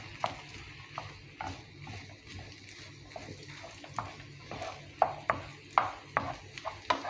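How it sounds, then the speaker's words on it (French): A spoon stirs potatoes in a pan, making a string of close, uneven scrapes and soft knocks that grow sharper and more frequent toward the end, with quiet background hiss. "Et là, on remue pareil."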